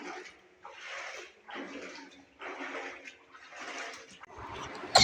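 Water sloshing and splashing in repeated bursts, roughly five surges of moving water out in the open, moderately loud with short pauses between them and a sharper splash at the very end.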